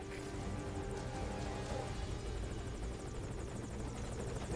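A helicopter from Metal Gear Solid V: Ground Zeroes churns in a steady, dense rotor drone with rhythmic blade chop, continuous and close throughout.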